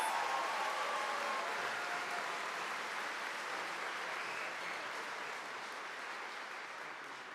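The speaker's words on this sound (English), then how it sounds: "And a round of applause for this amazing section of our graduating class." A graduating class at Henry Wise Wood's 2025 graduation ceremony receives a round of applause: dense, sustained clapping from a large audience, heard at a moderate distance and slowly fading toward the end.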